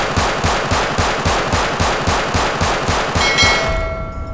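Modded gunfire in GTA 5, a loud, close burst of evenly spaced rapid shots lasting about three and a half seconds, followed by a ringing metallic tail; no talk.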